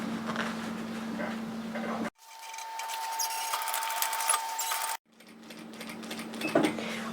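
A sewing machine stitches a curved seam in taffeta, its steady motor hum running in two long bursts with a short pause between, close and fairly loud with no talk.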